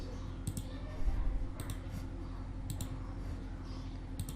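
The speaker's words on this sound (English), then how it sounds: "So just double click to extract this zip file." A computer mouse double-clicking while extracting a zip file in Windows: three pairs of sharp, close clicks spaced about a second apart over a steady low hum.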